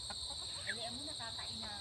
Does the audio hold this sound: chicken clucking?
yes